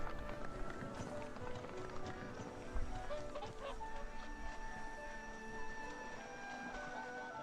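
A flock of migratory geese gives overlapping honking calls that form a dense, continuous chorus, fairly faint and distant, with a steady background wash.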